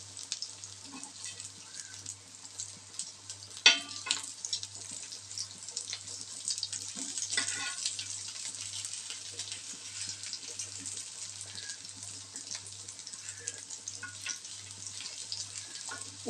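A vegetable cutlet fries in a pan with a soft, steady sizzle and faint crackling, close and quiet, with a low hum beneath and a couple of brief clatters as it cooks undisturbed.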